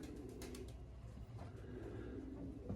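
Homing pigeons cooing steadily at a loft in the open, with low throaty coos running through the whole stretch over a constant wind-like background; no voices.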